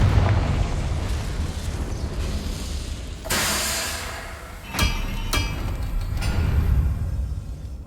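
Confringo spell blasts in Hogwarts Legacy, with loud booming explosions and sharp bursts over a rumbling, continuous game soundscape.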